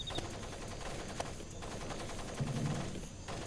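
Distant, muffled bursts of automatic gunfire rattle from the Splinter Cell: Pandora Tomorrow refinery mission in Kundang, Indonesia, a dense, steady crackle set under the game's background ambience.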